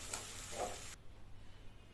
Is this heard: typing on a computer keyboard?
no